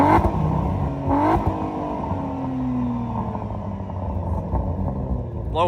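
Cadillac ATS-V with a ZZP exhaust, in sport or track mode, revs up once near the start and holds a deep rumbling idle, then blips briefly again at the end, loud and close throughout.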